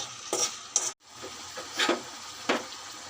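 A spatula stirs ginger-garlic paste, chopped onion and salt into fish frying in a pan, with a soft steady sizzle broken by several scraping strokes and one brief silent gap.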